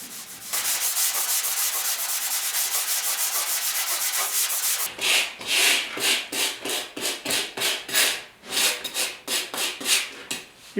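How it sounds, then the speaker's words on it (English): Sanding cured feather fill primer on the body of a 1972 Ford 4x4 short box truck, first a steady continuous rasping stroke, then rhythmic back-and-forth scrubbing passes, close and moderately loud with no talk. "I really like this stage when you start sanding the primer."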